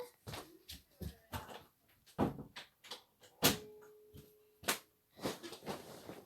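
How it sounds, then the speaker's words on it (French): Someone closing a door at home, heard as a series of close knocks, thumps and clatters spread over several seconds, with one sharper bang in the middle. "je vais fermer la porte"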